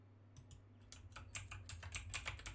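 Rapid typing on a laptop keyboard in the video game Marie's Room, a dense flurry of crisp close key clicks that builds over a low background hum.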